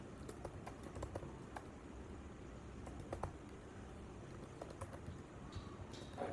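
Fingers type on a computer keyboard in short, irregular bursts of soft clicks, quiet and close in an otherwise calm room.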